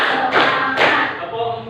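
Students in a classroom clap together in a few rhythmic group claps on a teacher's count, with two strong bursts of claps close by.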